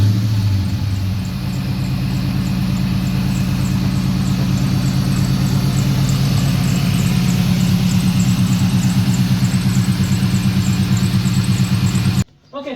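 A Saleen S281 with a possible lean condition or MAF sensor fault runs at a steady, loud, close idle with a throbbing pulse and a faint high whine, then cuts off near the end.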